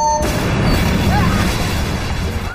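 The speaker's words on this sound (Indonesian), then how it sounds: "ketika detonator tak sengaja ditekan, lift pun meledak dan jatuh ke lantai bawah" A deep, loud explosion boom of an elevator blowing up in a film scene, with a rumbling, sustained aftermath filling the whole moment.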